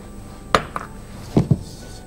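Metal utensil knocking against a pan while caramel is stirred, four short clinks in two quick pairs, close and fairly loud over quiet kitchen background.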